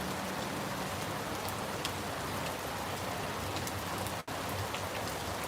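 Heavy rain falls steadily in Jamaica, a dense, even hiss of drops hitting surfaces close by, continuous throughout with one brief sharp break near the end.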